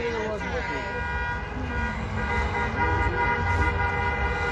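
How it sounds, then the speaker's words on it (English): Car horns honk in a busy street near a bus while traffic rumbles, with several overlapping toots carrying over the road noise. A person talks through part of it. "There's people honking."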